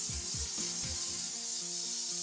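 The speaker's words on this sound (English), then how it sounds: "Food splatters, drink spills, and other types of sticky deposits, again, are no match for the cleaning power of the Daimer KleenJet steam cleaner." A steam cleaner works on food splatters inside a microwave. A continuous hiss of steam sits under repeated rubbing and scrubbing strokes close to the microphone, with no talking.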